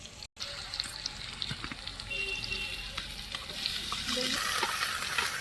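Onions fry in a pan with a continuous crackling sizzle and soft stirring, the sound growing a little louder after a short gap near the start.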